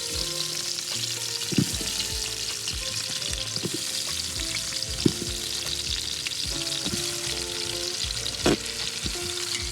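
Spiced stuffed brinjals frying in hot oil, a steady crackling sizzle with scattered pops and occasional stirring clatters, moderately close and free of voices.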